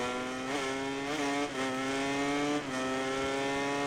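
A MotoGP 19 racing motorcycle engine screams at high revs, climbing steadily through several quick upshifts with brief dips between gears, loud and close throughout with no talking.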